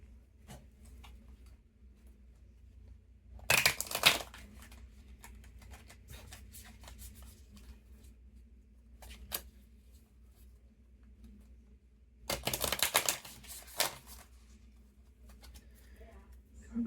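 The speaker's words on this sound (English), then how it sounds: "I'm going to shuffle it a couple of times." A Fairies Oracle card deck is shuffled in two short, papery riffling bursts at close range, separated by several seconds of near quiet.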